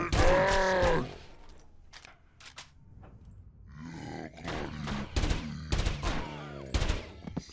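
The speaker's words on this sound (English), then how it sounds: "Stop shooting at me. Oh my god, a whole room full of enemies." Enemy gunfire in the shooter game Ahriman comes as a series of sharp separate shots and short bursts, mixed with pained grunts and groans, loud and close, with a quieter gap between clusters of firing.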